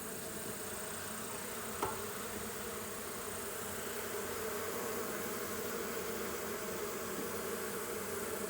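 Honeybees buzzing steadily around a hive after a smoke-related catastrophe left many dead, a dense continuous drone close by with one brief click, no talk.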